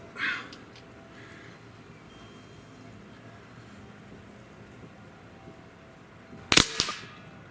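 A single loud, sharp crack from a Hatsan BT Big Bore Carnivore QE air rifle fires near the end of a quiet stretch, leaving a brief ringing tail.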